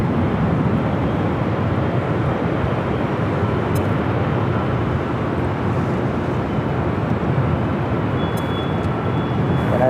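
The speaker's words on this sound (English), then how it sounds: "The 737-800 up next for takeoff at 24 left." Boeing 737-800 taking off on runway 24 left at LAX, a loud continuous broadband jet engine roar heard from outside, steady throughout with wind buffeting.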